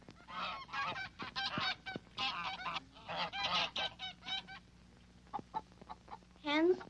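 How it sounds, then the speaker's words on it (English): Geese honk repeatedly nearby in a farmyard setting, a series of loud, nasal calls in irregular bursts with brief gaps between them. "Geese honk."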